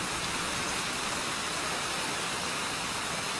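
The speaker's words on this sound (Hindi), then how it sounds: "लगता है बेमौसम बरसात होने वाली है।" Steady rain pours down in a dense, even hiss that fills the whole stretch, loud and continuous with no voices over it.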